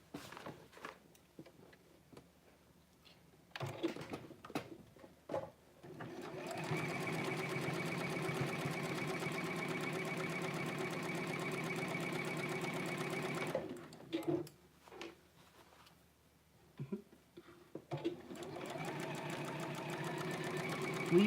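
A sewing machine stitches a pinned piece onto fabric in a long steady run of rapid mechanical chatter, preceded by short stop-start bursts and followed by a few more brief bursts, fairly close and alone.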